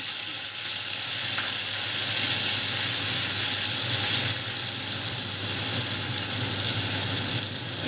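Ground onion paste hits hot oil with bay leaf in a pan for a Bengali eggplant dish, giving a loud, steady, close hiss of frying that holds without a break and with no voices.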